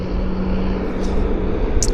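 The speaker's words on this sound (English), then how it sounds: "And I hear some large airplanes starting up." Large airliners at Vancouver airport running their engines, a steady distant rumble with a faint droning hum and brief high hiss bursts, no talking.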